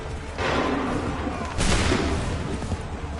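Musket volley in Assassin's Creed 3, two loud, close blasts of massed gunfire about a second apart, with a commanding voice shouting over them.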